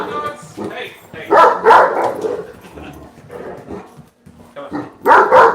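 A puppy named Pebbles yips and barks excitedly indoors, close and loud, in short bursts mixed with a person talking.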